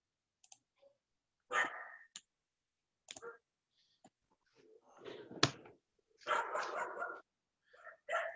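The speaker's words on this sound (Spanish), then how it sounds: "Un perrito." A small dog barks in a few scattered, faint bursts of yapping, mixed with light clicking noises and quiet gaps between them, over an otherwise silent background.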